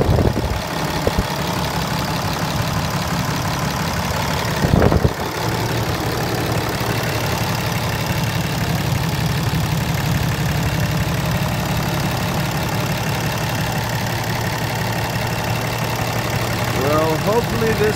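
A 2012 RAM 3500 with a 6.7 liter Cummins turbo diesel idles steadily for the whole stretch, a constant low rumble with a brief louder knock early on and some faint background noise.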